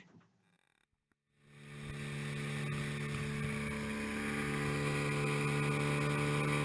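An outboard motor on a boat cruising near Port Stephens starts up after a brief quiet moment and quickly builds to a loud, steady drone with a strong low hum and wind noise, close and continuous with no talking.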